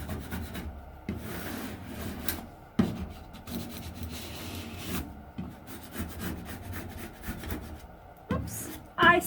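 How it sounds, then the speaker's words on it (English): Large Cricut vinyl being burnished onto a wall, a steady dry rubbing and scraping that comes in repeated strokes, close and moderately loud, with a few sharper knocks. "I'm going to be careful when I burnish that area because it's got two seams"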